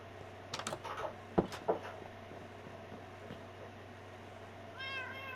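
Cat meowing in a PS4 adventure game, a few short meows near the start with faint typing-like clicks and a steady background hum, then a brief high chirp near the end.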